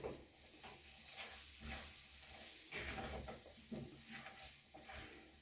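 Hot fried potatoes and onions for Lyonnaise potatoes are stirred in a pan over high heat, with a continuous close sizzle broken by repeated scraping strokes.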